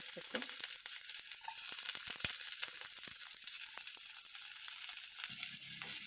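Onions and curry leaves sizzle steadily in a hot pan with mustard seeds and cumin, a continuous close, dense frying hiss with small crackles throughout.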